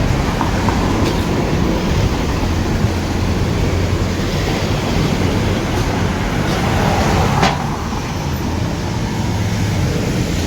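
A train rumbles through a railway station, a loud continuous roar of wheels and carriages with brief metallic clanks, steady close by.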